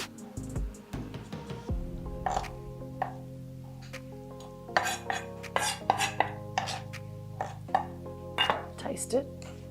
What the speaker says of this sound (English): I'm just going to mix this up.